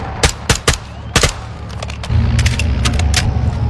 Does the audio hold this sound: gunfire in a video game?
yes